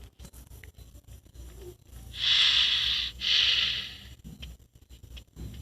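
Two loud, breathy snorting sniffs in quick succession, close up, standing out over a low game-like background hum.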